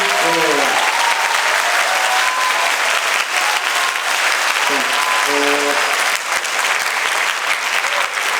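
Sustained applause from a large crowd, dense steady clapping throughout, with a few brief voice-like tones rising over it near the start and middle.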